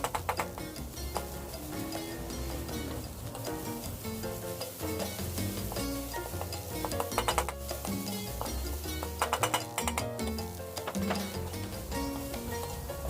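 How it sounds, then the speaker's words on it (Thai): Shallots and garlic stir-fry in a pan with a continuous soft sizzle, while a spatula ticks and taps against the pan in irregular bursts, fairly quiet throughout. "ตอนนี้เราก็ผัดหอมกระเทียมนะคะ"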